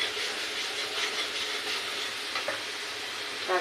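Kashmiri chili powder with cumin and coriander powder sizzles in a pan for a Bengali doi katla curry, a soft, even frying hiss with light stirring scrapes, quiet and close, no talk.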